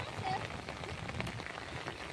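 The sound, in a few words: rain falling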